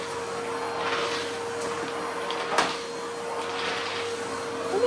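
A vacuum cleaner running at a steady hum with a constant motor tone and airy whoosh that swells and fades as it moves, heard alone and fairly close.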